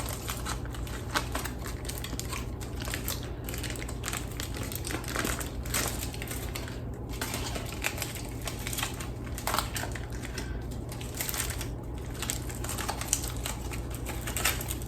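Hot aluminium foil is peeled off pressure-cooker churro bites, producing a steady run of close, soft crinkling and crackling with small taps and rustles throughout, fairly quiet and without speech.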